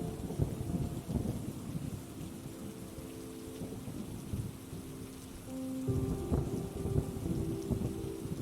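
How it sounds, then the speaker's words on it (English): Steady rain drums on a roof while low thunder rolls underneath, with a soft sustained tonal drone running alongside the downpour. "Rain on the roof. Soft, steady, washing your thoughts clean."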